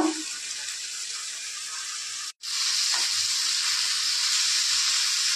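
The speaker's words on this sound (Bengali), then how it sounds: "হালকা অল্প একটু উষ্ণ গরম জল দিয়ে দেবো।" A splash of warm water goes into a hot pan of spiced vegetable curry with Kashmiri chilli and tomato, raising a loud, steady hiss and sizzle that cuts out briefly and then resumes as a continuous bubbling fry.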